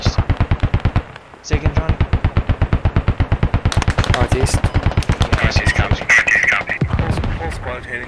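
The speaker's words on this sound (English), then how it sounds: "There's a 2-4 machine gun." Sustained bursts of M240 machine gun fire from the video game Squad, loud and rapid with dense repeating shots, while voices talk over the gunfire.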